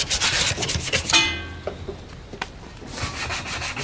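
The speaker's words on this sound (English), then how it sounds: "Realistically, we're roughing it up just to get the paint to stick too" Rusty metal yard art being sanded by hand before painting, with close rasping rubbing strokes in short bursts, a pause, then renewed scraping.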